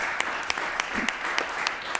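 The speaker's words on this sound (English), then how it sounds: "I want to have them a round of applause." Brief applause from a city council meeting audience in Lowell, fairly quiet and steady, with a few sharper claps popping out at regular intervals.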